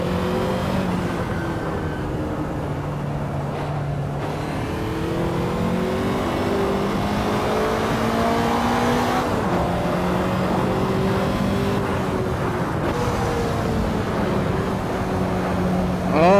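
Ferrari 288 GTO engine in the racing game Assetto Corsa, a loud continuous roar rising and falling through gear changes, with revving climbs and drops as the car accelerates and brakes, no voices over it.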